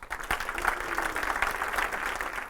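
A live audience at a seminar claps for a speaker coming on stage, a short burst of dense applause heard from a little distance.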